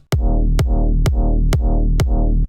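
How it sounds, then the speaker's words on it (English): Five deep kick drum hits in a steady, evenly spaced pattern, each with a sharp clicky attack and a booming low tail. "So here we have a kick"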